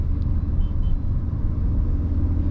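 Kia Sonet 1.2 petrol with a five-speed manual, heard from inside while driving as a steady low engine and road rumble, even and continuous, with no talking.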